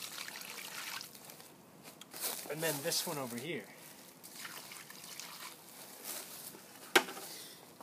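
Water trickles and splashes onto moss on a walkway while a person talks over it, with a brief sharp knock near the end.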